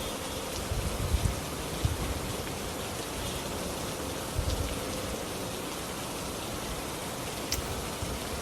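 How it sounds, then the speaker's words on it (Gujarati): Heavy monsoon rain pours down in a Gujarat village where water has pooled, a steady dense hiss with occasional louder drips and splashes close by, and no voices. "અહીંયા જો વરસાદ તમે પાણીના પાણી ભરાઈ ગયા છે."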